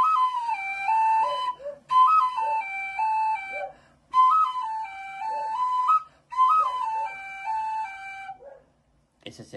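A bright, breathy shepherd's flute plays a lively tajaraste melody in short phrases separated by brief pauses, solo and close, ending with a faint knock.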